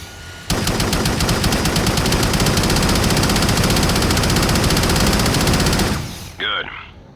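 A minigun in the video game Shadowrun fires one long, loud, rapid burst of gunfire for several seconds, then spins down and stops, leaving a short mechanical whir and electronic tone.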